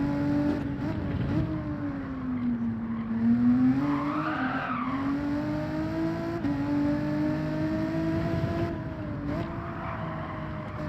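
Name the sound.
car tires skidding in Gran Turismo 7 video game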